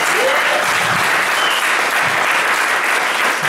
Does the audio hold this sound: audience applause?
yes